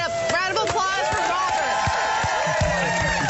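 A live audience cheers, whoops and claps loudly at a cooking competition event built around a Barbie birthday dolls challenge, with excited voices shouting over a dense, steady crowd roar.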